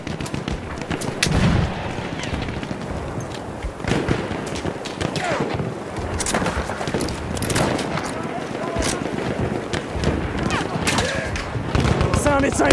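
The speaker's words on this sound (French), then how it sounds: "mitrailleuse ennemie!" Enemy machine gun fire in a World War I shooter with Ross Mark III rifles, heard as repeated sharp gunshots and thuds scattered through a dense battlefield din, with shouting voices over it.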